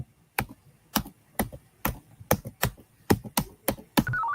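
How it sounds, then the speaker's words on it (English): Sharp, evenly spaced keystrokes on a computer keyboard, loud and close, each tap distinct with short gaps, ending in a faint electronic chime. "I think you're typing too fast."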